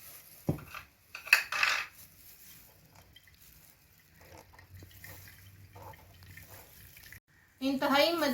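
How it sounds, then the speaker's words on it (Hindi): Metal pots and utensils clatter as someone's kitchenware is unloaded nearby: a sharp clank, a short burst of rattling, then a quieter stretch with light clinks before a louder, busier clatter at the end, with faint indistinct voices. "आपको मेरी रेसिपी के दौरान बर्तनों की आवाज़ें वो आ रही थी। किसी का सामान अनलोड हो रहा था बर्तनों का"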